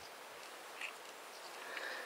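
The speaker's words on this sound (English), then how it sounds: "I don't know whether you can hear the bees." Honeybees work a garden border near bird feeders and a flowering white Deutzia hedge, giving a faint, steady outdoor buzz with a couple of slightly louder passes close by.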